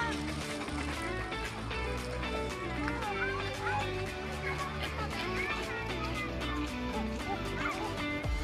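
Birds call outdoors in Krefeld, a dense, steady chorus of overlapping honks and squawks that runs loudly from start to finish.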